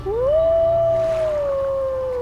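A wolf in a snowy game scene gives a single long, clear howl that rises quickly, holds steady, then slowly falls, close and loud over low ambient wind.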